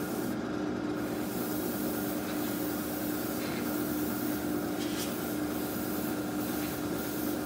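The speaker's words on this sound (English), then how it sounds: "One drawback of the fan airbrush is you get a lot of overspray." A fan airbrush spraying paint onto a 1/32 Revell Heinkel He 111 scale model, a steady close hiss of air that holds constant throughout.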